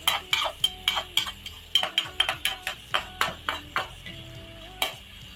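Chicken masala frying in a pan is stirred with a utensil, giving a steady run of sharp scraping strokes over a continuous sizzle, close and fairly loud, with no talk.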